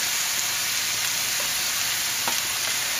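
Glazed pork chops frying in a pan at just under medium heat, a dense, steady sizzle and crackle filling the space without talk.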